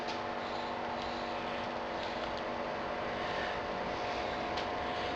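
A brewing pump runs during the mash of a Munich Helles, giving a steady, even mechanical hum with constant tones throughout, plus a few faint ticks.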